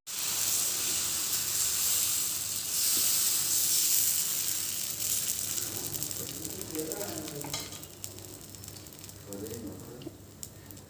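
Garlic chilli dosa sizzles loudly on a hot pan, a dense, continuous hiss that eases a little toward the end, with a faint voice speaking briefly over it in the later seconds.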